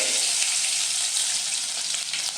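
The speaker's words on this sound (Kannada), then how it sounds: "ಇಲ್ಲಿ ಜಜ್ಜಿ ಇಟ್ಟಂತ ಬೆಳ್ಳುಳ್ಳಿ ಸೇರ್ಸಾಕತ್ತೀವಿ ನೋಡ್ರಿ" Crushed garlic frying in hot oil with mustard seeds for tomato rasam, a steady loud bright sizzle that holds evenly throughout with no talking.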